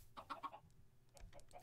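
Chicken clucking in Minecraft, a few short, quiet clucks in a burst near the start and again toward the end, faint and alone with no talk.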